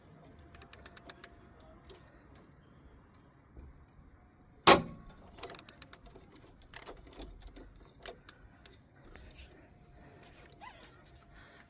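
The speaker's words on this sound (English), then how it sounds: "we're going to use 19mm socket to slacken off these two nuts" A 19mm socket wrench slackens nuts on a Ford Fiesta Mk7 front strut, making quiet, irregular ratchet clicks and light metallic ticks, with one sharp loud clunk partway through.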